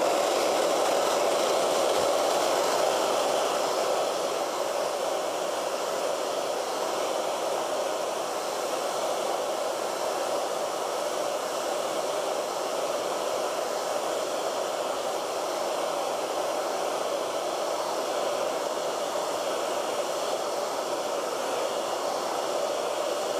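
A hair dryer blows steadily over wet acrylic paint, a constant close airy whoosh that holds at an even level without a break, with no voices over it.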